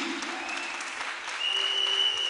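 A church congregation applauds together, a dense, steady clapping that swells slightly toward the end, with no speech over it.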